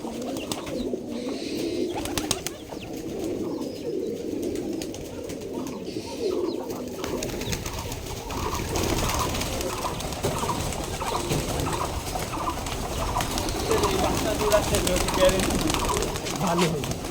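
Giribaj tumbler pigeons coo in a loose, overlapping flock in an old abandoned courtyard, steady and close, with people talking over the birds.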